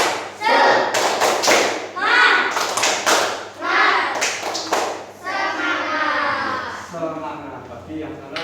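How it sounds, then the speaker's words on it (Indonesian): An Indonesian primary class performs the rhythmic 'tepuk semangat' spirit chant, loud patterned clapping and thumping mixed with children chanting together close by. "Biar semangat kita tepuk semangat dulu."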